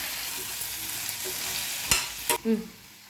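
Mint leaves and small tomatoes sauté in a pan with a steady close sizzle, broken near the end by a few sharp scrapes and clacks of a stirring spoon. No voices.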